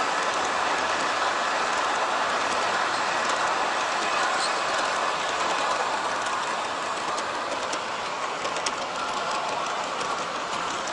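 Aristo-Craft FA1 and FB1 model train engines, factory lowered to the railhead, run along the track with a continuous, even rolling rumble and hiss that stays loud and steady throughout.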